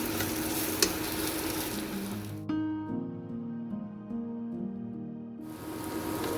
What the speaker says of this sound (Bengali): পোস্তটা একটু ভেজে নিচ্ছি আমি।